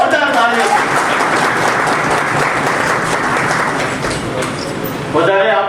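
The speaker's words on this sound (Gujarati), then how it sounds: "એક વાર જોરદાર તાળીઓ" Loud, sustained applause from an audience at a Swachchh Hi Seva 2025 public event in Mahuva taluka, dense clapping filling the whole stretch and fading slightly near the end.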